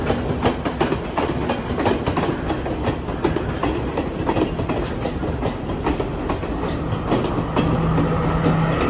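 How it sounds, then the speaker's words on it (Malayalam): A local Sri Lankan train rumbles past close by, wheels beating a steady rapid clickety-clack over the rails throughout, loud and unbroken, with no talking. "ഒരു ലോക്കൽ ട്രെയിൻ."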